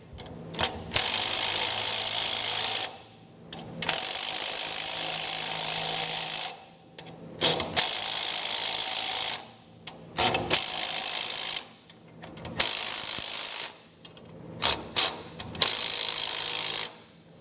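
A ratchet runs down the helper spring bolts on a 2017 Chevrolet Silverado during a Hellwig Load Pro 25 progressive helper spring install, loud close bursts of rapid clicking lasting a few seconds each, separated by short pauses.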